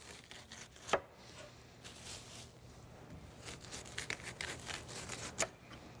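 A knife slices the rind off a seedless watermelon, giving a few soft, close crunching and tearing strokes with two sharper crisp cuts, fairly quiet with no talk.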